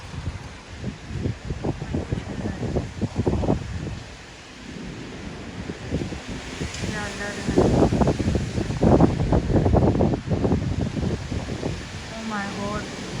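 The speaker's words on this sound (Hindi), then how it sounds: "हवा चलना शुरू हो गई है भाई।" Strong wind gusts through a tree in Karachi, with loud rushing and rustling bursts, while someone talks over it.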